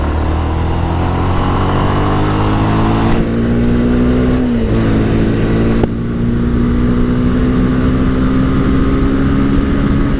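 Honda Twister 250 motorcycle from 2019 accelerating hard through the gears, its loud engine note climbing steadily with two brief dips at the gear changes, continuous and close with no talking.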